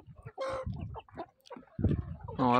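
Chickens clucking in a winter coop on a cold snowy day, with small late-hatched chicks among them; several close, bright calls come in bursts separated by brief pauses, ending in a louder, sustained cluck.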